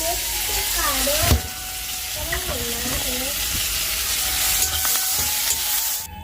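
Vegetables with dried fish cooking in a pan: beans, potatoes and eggplant frying with a steady sizzle and occasional stirring, under a continuous background hum with faint tonal sounds nearby.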